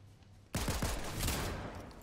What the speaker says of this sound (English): AI is shooting at somebody